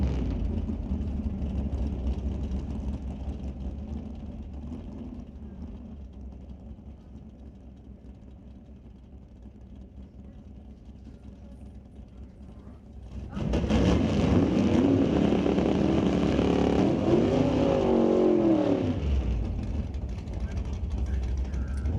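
A Super Shifter final round at a drag strip at Mission Raceway Park, with a blue Camaro among the cars: a low idling rumble, then a sudden loud roar of engines launching whose pitch climbs and shifts for several seconds before fading.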